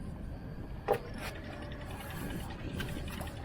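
A knuckle-buster fishing reel's drag ratchets out line in a fast run of light mechanical clicks outdoors, with one sharper click standing out over steady background noise and no talking.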